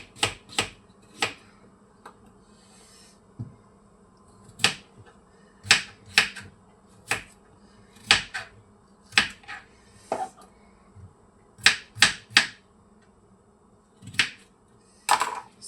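A knife chops vegetables into big chunks on a board, sounding as sharp, crisp, close knocks in an irregular rhythm with short pauses between cuts.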